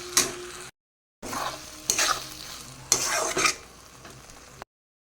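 Poppy seed paste with prawns and onion sautés in oil in a pan, with close scraping stirs and soft sizzling in short bursts separated by brief silences.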